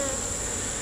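Honey bees swarming around opened beehive supers on a hot day: a dense, continuous angry buzzing close by, steady in level with a sustained high whine over it.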